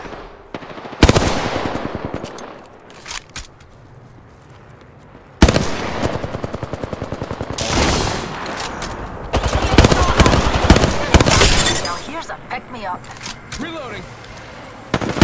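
Loud Apex Legends gunfire fills a match, with rapid automatic bursts broken by brief lulls and a sharp blast near the start, while a voice speaks over parts of the fighting.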